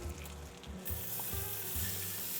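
Picanha steak searing in its own rendered beef fat in a pan, a steady close hissing sizzle with soft bubbling pops, brief low thumps as the meat is shifted, and no talking.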